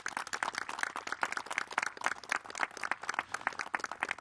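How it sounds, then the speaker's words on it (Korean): The press corps gathered in the Nokjiwon garden applauds to open a 2022 presidential press meeting: a steady, moderately distant round of many hands clapping, fairly faint overall. "박수로 열어주시기 바랍니다"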